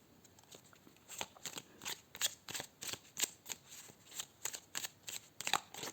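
A deck of oracle cards is shuffled up close in a steady run of quick, papery riffles and flicks, quiet and without talk.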